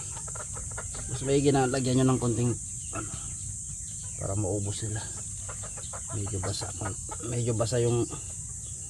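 Rhode Island Red chickens on a small farm cluck softly in the background at feeding time, mostly under someone talking steadily.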